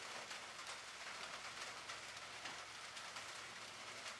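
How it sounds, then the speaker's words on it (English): Steady rain drums on the metal roof of a firewood storage shed, a dense, even patter that stays constant and fairly soft throughout with no voices. "probably can hear the sound of it on this metal roof"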